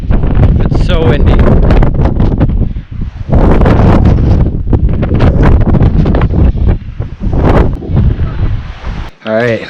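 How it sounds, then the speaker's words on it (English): Strong gusting wind on a clifftop lookout at Lake Waikaremoana, New Zealand, buffets the microphone with loud, roaring rushes, while people talk intermittently over the blustery noise. "It's so windy."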